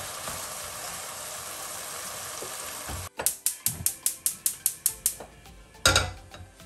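Beef stir-fries in a hot pan for chilli fried beef, giving a steady hiss that cuts off abruptly, followed by a rapid run of about ten sharp, evenly spaced metallic clicks and a final clatter.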